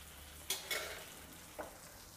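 Thinly sliced green chillies and onion pieces drop into hot oil, with a few brief sizzling bursts over a quiet steady frying hiss, close and fairly faint.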